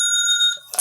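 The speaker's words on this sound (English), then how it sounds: "Got an alarm going off." An alarm rings out in a home setting, a bright electronic tone with steady tonal bands that holds for about half a second before cutting off, followed by a brief burst of noise.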